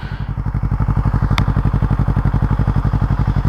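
A Yamaha R3 motorcycle engine with its silencer removed idles loud and close with a rapid, raw, popping exhaust throb, unmuffled and steady throughout.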